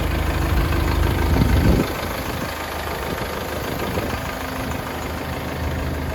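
A Forte RD504C mini tractor engine idles with a steady low, throbbing drone, louder in the first couple of seconds and then settling into a quieter, even idle.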